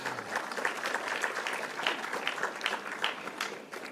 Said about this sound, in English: Can we give another round of applause to the team that Charles Gasheru is leading?